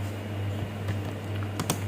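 Someone types on a computer keyboard while writing Arduino code. A few faint, scattered key clicks sound over a steady low electrical hum.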